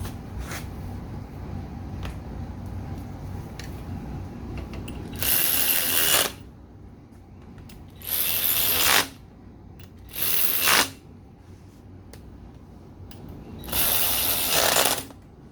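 Bolts being tightened on the rear wheel of a 1977 Moto Guzzi V1000 with a ratchet, four bursts of fast, loud clicking separated by quieter pauses against a low workshop hum.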